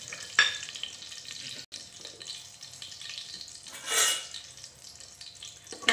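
Whole cardamom, cloves, cinnamon and bay leaf fry in hot oil, giving a steady close sizzle that swells when spices are stirred, with no talking.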